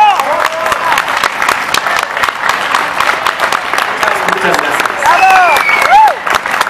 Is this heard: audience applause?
yes